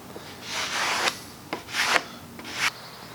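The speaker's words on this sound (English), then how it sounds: "the next step is to start to scrape this off going in a diagonal" Scraper dragging finish off the board of an antique Singer treadle sewing machine cabinet in diagonal strokes, three loud, close, rasping passes with short pauses between them.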